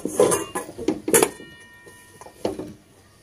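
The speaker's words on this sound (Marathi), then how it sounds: "तर आपण झाकण ठेवून देऊया 10 मिनिटांसाठी।" A lid set down on a pan of oil-coated sweet potatoes steaming over low heat gives a few close, sharp metallic clinks and clatters, bunched together and then fading into quiet.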